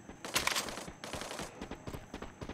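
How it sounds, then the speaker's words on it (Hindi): Gunfire in the Garena Free Fire mobile battle game, rapid bursts of automatic shots crackling in quick clusters, fairly faint and without talk. "फायरिंग तो हो रही है"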